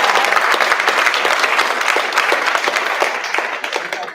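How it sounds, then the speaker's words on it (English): Dense, loud applause from an audience at a school district board meeting, many hands clapping together continuously before tapering slightly at the end, with no speech over it. "All right, one more round of applause."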